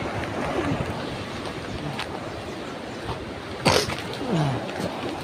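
Sea waves wash against a seawall during a morning fishing outing, a steady rushing surf with one sharper splash-like surge partway through, with no talk.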